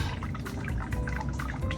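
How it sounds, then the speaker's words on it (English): Sparge water poured from an orange cooler across a bed of grain during homebrewing of a German Helles, a steady, soft splashing and trickling that runs continuously without pause. "So now I'm pulling it out of my orange cooler and just pouring it across."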